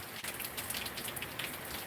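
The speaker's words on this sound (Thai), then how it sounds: "แต่เช้านี้ ฝนตกตั้งแต่เจ็ดโมงเศษตอนนี้เก้าโมงเศษนะครับ" Steady rain patters on surfaces on a wet morning, a dense, even hiss of drops close by with no voices.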